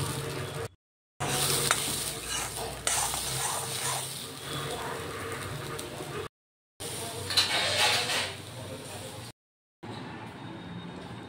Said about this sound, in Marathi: आता आपण इथे तुरीचे दाणे त्याच कढईमध्ये टाकून छान भाजून घेणार आहोत.